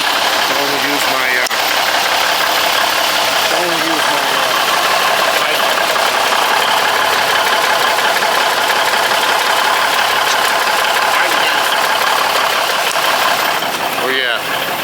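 A Big Cam Cummins engine in a binder pulling truck idles steadily while warming up, a loud continuous rumbling drone with people talking over it.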